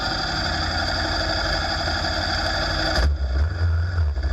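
A 2022 Kawasaki KLR 650 motorcycle engine runs steadily while riding a trail, a continuous close drone that deepens into a heavier, louder rumble near the end.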